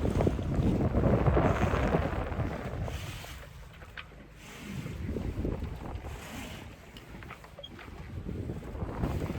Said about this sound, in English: We just got wind for the first time all day